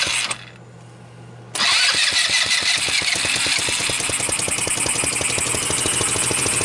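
A small off-road go-kart engine with a cheap pit bike ignition cranks and catches after a quiet pause, then runs at a loud, fast, even idle chatter right up close.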